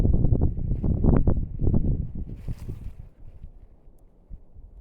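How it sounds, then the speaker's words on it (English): Strong gusty wind at a desert campsite in Utah's San Rafael Swell buffets the microphone in heavy low rumbling bursts beside an MSR WhisperLite camp stove, easing off into a steadier, quieter rush toward the end. "In the case of really windy times like this"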